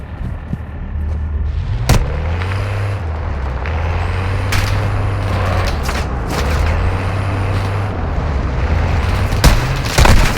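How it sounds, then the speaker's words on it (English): A charge detonates in Call of Duty DMZ: sharp, heavy blasts, one near two seconds in and another at the end, over a low rumbling engine-like drone. "Set security and confirm detonation."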